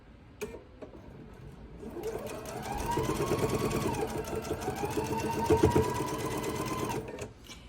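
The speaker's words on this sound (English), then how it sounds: "we'll sew this piece together." A sewing machine stitches quilt block pieces together for a seaside-themed quilt, its motor whirring in a steady rapid run that slows briefly midway, then picks up again. The stitching is close and fairly loud, with no talking.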